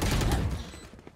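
Gunfire in the Valorant video game, a quick burst of shots in rapid succession that fades within about a second.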